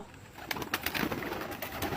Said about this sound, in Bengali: কবুতরগুলো কত সুন্দর করে বের হইতেছে।